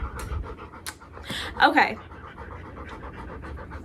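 Dog named Storm panting heavily and rapidly close by in a hot Florida setting, a steady breathy rhythm running throughout with a brief louder burst midway, while a person speaks a single word over it.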